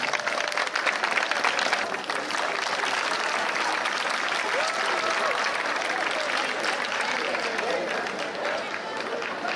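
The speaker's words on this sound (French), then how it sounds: "On les applaudit très très fort." A crowd at the FSY 2024 gathering in Bouaké applauds steadily for about ten seconds, a dense, even wash of clapping heard from within the audience.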